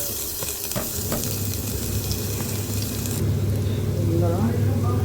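Mustard seeds and curry leaves sizzling and crackling in hot oil for a potato fry, a loud continuous frying hiss with scattered pops, close to the pan throughout, with a faint rise of intensity toward the end.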